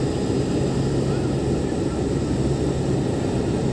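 A C-130 military transport aircraft in level flight at about 1500 metres after takeoff, on a parachute drop mission; a loud, steady propeller and engine drone fills the whole stretch from inside the cabin, with no talk.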